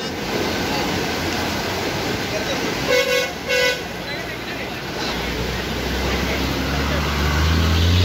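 An army vehicle arrives and sounds its horn in two short honks near the middle. Rushing river water roars steadily underneath, and a low engine rumble builds toward the end.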